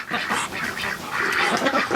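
A Muscovy drake being caught by hand gives close, raspy calls and scuffling, with a rough, breathy commotion that continues without a break.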